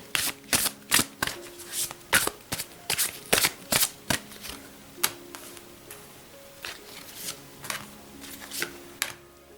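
Tarot cards are shuffled close up in a brisk rhythm of sharp riffling snaps that come in quick bursts, then slow to sparser taps toward the end, with no talking.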